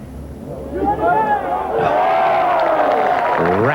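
A golf gallery at a professional tournament bursts into loud cheering and shouts that swell and hold. A commentator's voice runs faintly underneath.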